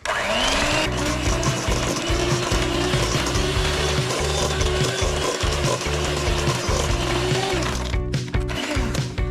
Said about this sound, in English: Now we're just going to get a hand mixer and whisk this up.